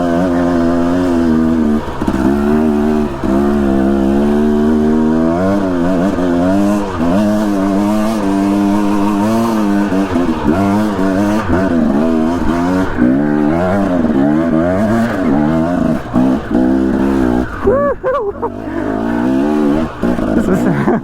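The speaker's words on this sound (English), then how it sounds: "I'm just spinning my rear wheel." A dirt bike engine revs hard over and over as the rear wheel spins on a steep, dry, loose trail in burned Idaho backcountry. The pitch rises and falls in loud, close surges throughout.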